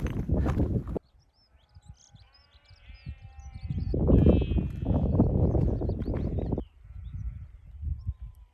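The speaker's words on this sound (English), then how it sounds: "Sheep" Sheep bleat on an outdoor walk, several wavering calls close by against wind and rustling.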